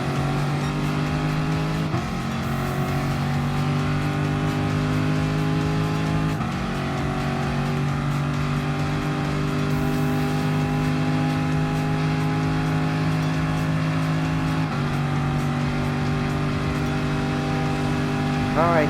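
Steady, loud race car engine drone in Gran Turismo Sport at Le Mans, a 2017 Lexus RC F among the Gr.3 field, holding a high sustained pitch with a few gear-shift dips and a voice talking over it.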